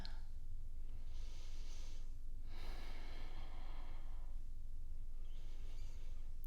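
Slow, deep breaths drawn in through the nose during a vinyasa yoga flow, two broad swells of airy breath noise standing out over a steady low background hum.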